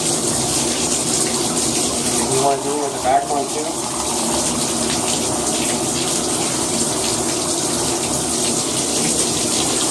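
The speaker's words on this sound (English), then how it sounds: "So you want some nice warm water. Okay, so we have warm water, and then you're just going to flush out all the dirt." Warm water rushes steadily from a tap as it is flushed through the bell section of a trombone to clear out dirt, with a person speaking briefly over the flow.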